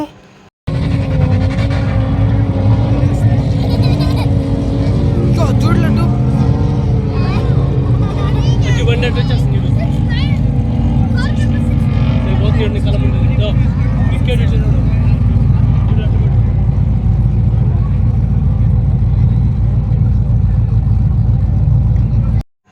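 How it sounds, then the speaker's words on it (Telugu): Cars race one after another past a large crowd at the Liwa festival in the Abu Dhabi desert, their engines roaring steadily and loudly for the whole stretch under crowd noise and voices. "అసలు ఒక్కొక్క కారు చూడండి ఎంత స్పీడ్ గా వెళ్ళిపోతుందో"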